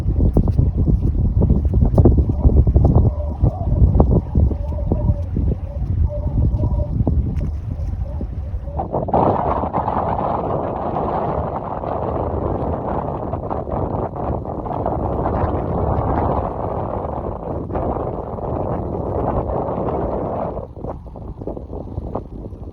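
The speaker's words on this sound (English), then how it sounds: "Very windy out here." Strong wind at sea buffets the microphone in a continuous loud roar, with boat and water noise beneath; the rushing grows denser and brighter about halfway through.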